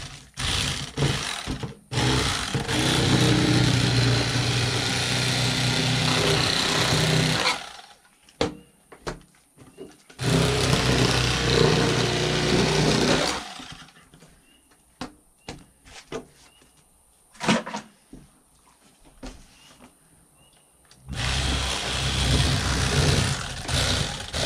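Electric knife filleting a largemouth bass, its buzzing motor running in loud bursts that stop and restart, with quiet handling noises in the gaps between them.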